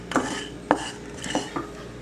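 A spoon scrapes and taps against a pan while nuts and wheat flour roast, giving four brief, sharp clinks spaced about half a second apart over a low steady background.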